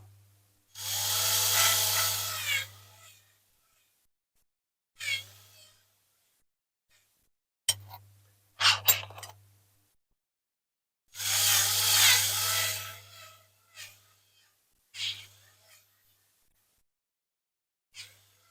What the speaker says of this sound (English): Right, here we go with that drill.